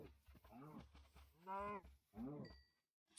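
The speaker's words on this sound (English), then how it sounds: "let me get a cow in here" A cow in Minecraft gives several drawn-out moos in a row, fairly loud and close, with a short high-pitched electronic beep near the end and no talking.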